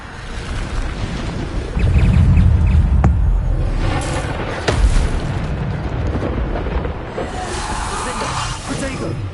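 Bombarda blasting spell exploding in Hogwarts Legacy: a heavy booming burst that swells and rumbles across several seconds amid dense game effects, loud and close, with a voice speaking over it.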